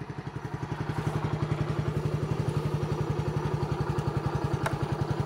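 TVS XL100 Premium motorcycle engine idling while warming up before a long ride, a steady close, loud rapid putter with even rhythmic pulses throughout, no talking.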